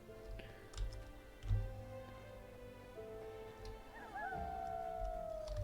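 A dog howling in the video game Enderal, a faint drawn-out wavering howl rising near the end over low background ambience and a few soft thumps.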